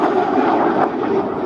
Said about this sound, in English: Here, the Alpha Jet coming in from right to left